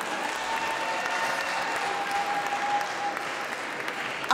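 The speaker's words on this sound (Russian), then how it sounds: "давайте бурными аплодисментами поприветствуем наших танцоров" Audience at a New Year's scientific ball applauding warmly to welcome dancers, a dense, steady wash of clapping from many hands filling the hall throughout.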